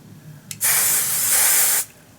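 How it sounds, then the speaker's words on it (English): Hairspray hisses from an aerosol can onto chalk-colored hair in one steady burst of a little over a second, close and loud, after a short tap. "once you spray it with hairspray, it helps to set it"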